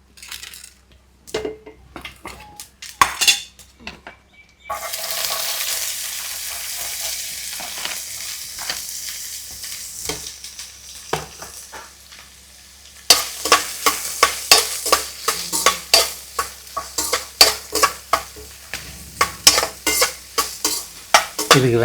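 Onions tipped into a pan of reddened chana dal hiss into a steady loud sizzle after a few sharp clinks of a utensil; later the mixture is stirred hard, with repeated scraping strokes over the frying.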